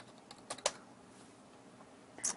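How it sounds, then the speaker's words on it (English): A password typed on a computer keyboard: a few faint, close key taps in two small clusters separated by a quiet pause. "I might need to type in my password again."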